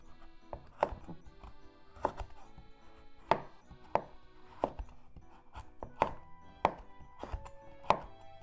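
A knife shaves the hard skin off a kabocha squash in about a dozen crisp, evenly spaced strokes that knock against a cutting board, with no voices.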